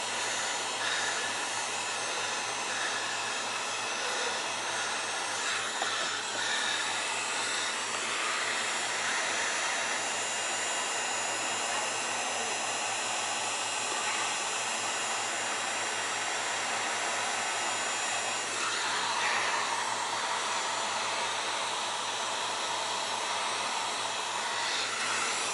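A heat gun shrinking glue-lined shrink tube during kayak motor work, giving a steady, loud blowing roar and hiss that continues without a break.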